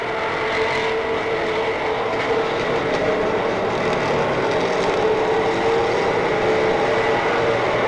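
Stock race cars roar around Monadnock Speedway at a 1990 weekly race, a dense continuous drone of engines coming off the turn, loud and steady without pause, with no voices over it.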